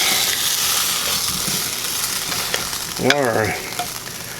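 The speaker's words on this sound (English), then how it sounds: "We're gonna give this a good stir. At least flip the carrots over." Guinness-glazed carrots are turned and stirred in a hot pan, a continuous loud sizzle and frying hiss with scraping movement. A single short spoken word rises briefly near the end.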